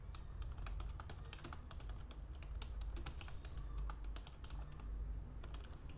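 Code being typed on a computer keyboard: a quick, irregular run of close, crisp key clicks with brief pauses, quiet and steady, no voices.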